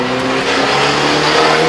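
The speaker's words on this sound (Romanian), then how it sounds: "Când ne încălzim motorul, dacă dai până la 5-6000 de durații, face poc." Car engine revving while warming up, a loud, steady, close engine drone with strong harmonic tones held at high revs throughout.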